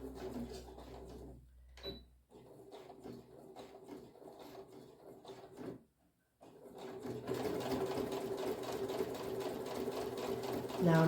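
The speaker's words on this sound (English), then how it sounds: "I'm going to sew a couple of stitches and then back stitch just to secure the stitching" A sewing machine stitches a fabric bookmark in quick rhythmic bursts. After a short pause it runs a steadier, louder stretch of back stitching, and soft speech can be heard faintly in the background.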